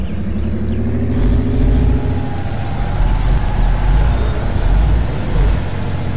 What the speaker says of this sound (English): Some wheel spin on the right side